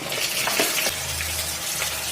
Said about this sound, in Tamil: எண்ணெய் சட்டியில் இந்த பாருங்க வெங்காயம் போடுறேன்